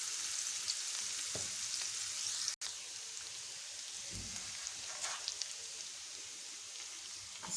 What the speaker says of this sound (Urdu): یہ پین میں نے تھوڑا سا آئل ڈال دیا۔ یہاں میں نے پیاز ایڈ کر دیے۔